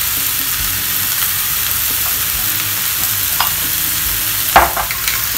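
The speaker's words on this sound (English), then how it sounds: "mix well. Do it slowly, don't break the rice grains." Coriander fried rice being stirred in a hot pan, a dense continuous sizzle with soft scraping of the spatula and a few sharper clinks near the end, close and fairly loud with no voices.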